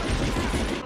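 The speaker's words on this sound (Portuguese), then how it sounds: "Mano, os caras tomando tiro dos rebeldes ali." Dense, continuous gunfire from the World War II shooter Medal of Honor: Underground, a sustained fusillade of overlapping shots and machine-gun bursts at steady loudness throughout.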